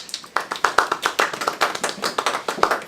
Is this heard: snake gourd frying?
no